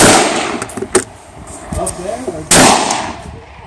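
An AR47 rifle fires Russian steel-cased ammunition outdoors, shot one-handed, with a few sharp, loud reports and a strong blast near the end, while a person talks between the shots.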